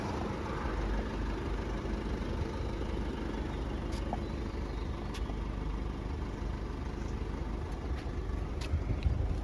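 A Peugeot 3008 with an Aisin automatic gearbox and about 110,000 km on it runs quietly, its engine a faint, steady low hum with a few soft clicks over the top and no talk.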